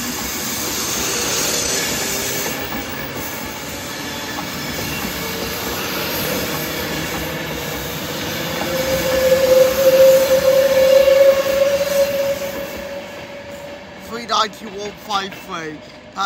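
An Avanti West Coast train at Edinburgh Haymarket, bound from Edinburgh Waverley to London Euston, rumbling steadily with a rising wheel squeal in the middle and clattering toward the end, while a voice talks over it.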